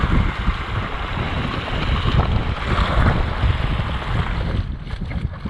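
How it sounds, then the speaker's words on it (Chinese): Sea waves break and wash along the shore in a steady loud roar, with heavy wind buffeting the microphone throughout. "带你们来看看浪吧，"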